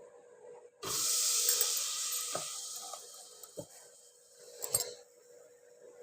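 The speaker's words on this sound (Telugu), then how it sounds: "మనం వెన్న వేయంగానే చక్కగా బాయిల్ అయిపోతుంది" Butter melting into ghee hisses and bubbles loudly in a pot as it starts to boil, the sizzle slowly fading, with a few sharp clinks of a utensil against metal.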